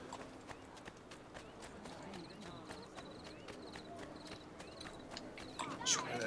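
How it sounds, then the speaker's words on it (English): Rhythmic clip-clop of horse hooves at a run in the video game Assassin's Creed II, steady and fairly faint, with a few light chimes and no clear talk. "I'm gonna need a fast horse."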